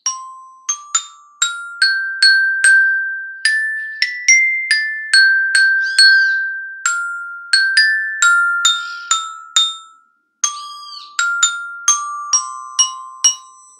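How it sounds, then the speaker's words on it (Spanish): Struck metal bars of a metallophone play a simple melody, clear ringing notes one after another with decaying tails and a short pause near the end, loud and alone with no voices. "Hoy la vamos a escuchar acá, en el metalofón. Y suena así."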